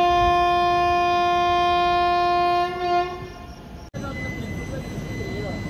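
A passenger train running from Hyderabad to Chennai sounds a long, loud horn for about three seconds, then the horn cuts off and the rumble of the moving carriages continues.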